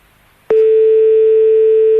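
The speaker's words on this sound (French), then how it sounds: "qui c'est s'amuse avec un double appel là?" A call-waiting beep cuts into a radio phone-in line, a steady loud electronic tone starting abruptly and holding without a break to the end.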